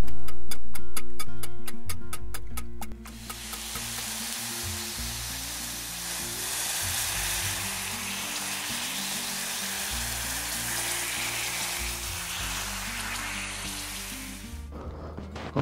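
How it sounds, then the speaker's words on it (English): Scrambled egg frying in a pan at a campsite gives a steady, dense sizzle that fills most of the clip, with faint rhythmic ticking at the start and a low hum underneath, no voices. "I just made my scrambled egg for my rolls"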